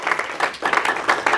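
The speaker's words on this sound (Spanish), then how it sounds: "dale un aplauso fuerte al Rey de Rey." A church congregation claps loudly and steadily in a brief burst of applause during a Spanish-language Bible study service.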